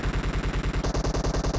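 Rapid automatic gunfire from the video game PUBG Mobile, a loud, evenly spaced burst of about sixteen shots in quick succession with no speech.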